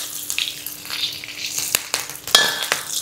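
Curry leaves drop into hot oil that already holds mustard seeds and cumin, tempering for sambar, and set off a steady close sizzle with sharp crackles and pops throughout.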